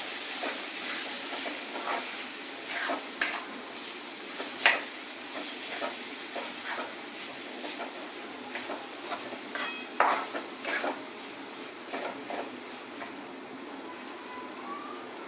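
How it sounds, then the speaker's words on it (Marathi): A spoon scraping and stirring thick mutton curry masala in a pot, with irregular soft clacks against the metal over a steady low hiss of cooking. "आता याला मिक्स करून घेऊ."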